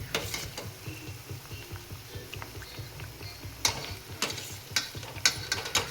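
Dessert pieces fry in a pan with a quiet, continuous sizzle, punctuated by sharp clicks and taps of a utensil stirring and lifting them, the scrapes growing busier near the end.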